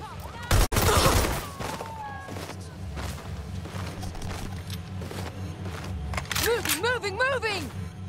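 Gunfire in the video game Watch Dogs: Legion, a loud burst of shots near the start, then lower game noise with a shouting voice over it.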